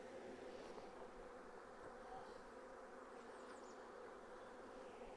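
A swarm of honeybees buzzes steadily around a hive and a box set outside, a continuous dense drone that stays level throughout, with no talking.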